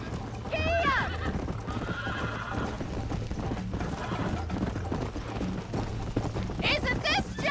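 A horse in Red Dead Redemption, a western video game, gallops with continuous hoofbeats and loud whinnies near the start and end, over game music and ambience.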